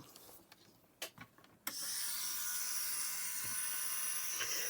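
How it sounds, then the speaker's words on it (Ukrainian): A steady, loud rasping hiss of a hand saw starts after a few clicks and knocks and runs on continuously. "Буду пиляти"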